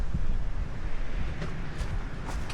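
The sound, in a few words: wind blowing on hiking trail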